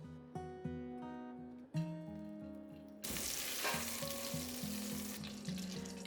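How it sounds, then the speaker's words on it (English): Bok choy stems and fennel sauté in olive oil and butter over medium heat, with a steady sizzle that swells louder partway through, under a continuous musical background and no voices. "I start by sauteing the bok choy stems and fennel"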